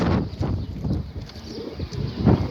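Pigeons coo in low, soft, repeated throaty calls close by, with a louder coo near the end over faint background noise.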